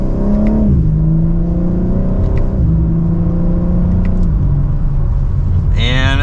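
A 2025 BMW M4 Competition pulls hard from second gear, its engine note climbing and snapping through quick upshifts as heard from inside the cabin.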